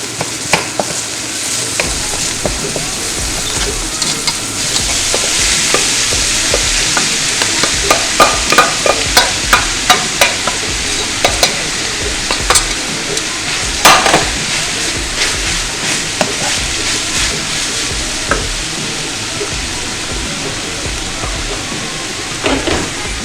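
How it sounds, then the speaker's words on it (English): Red onion sautéing in a hot pan as the base for vegan lasagna, a continuous bright sizzle with repeated sharp scrapes and clicks of stirring, close and alone throughout. "sauteing that up"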